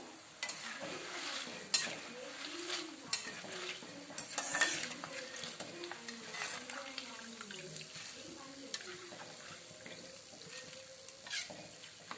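Chekka pakodas are deep frying in hot oil, giving a steady, close sizzle with bursts of stirring and clatter, while a voice talks intermittently over the cooking.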